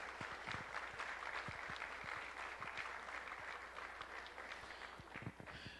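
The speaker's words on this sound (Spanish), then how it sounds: "Así que deseen un aplauso entonces." Applause from an audience at a talk on faith and crisis, a faint, steady wash of many hands clapping with sharper individual claps standing out, carrying on evenly for several seconds.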